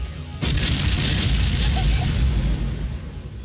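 Missile explosions from the visual novel game Princess Waltz make a sudden loud burst that swells into a sustained, rumbling roar lasting a few seconds, with a couple of small pops inside it.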